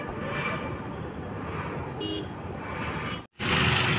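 Traffic circles a roundabout on a Hitech City road in Telangana, with a steady drone of nearby engines and passing vehicles, a brief horn-like tone midway, then a sudden gap before louder road noise resumes.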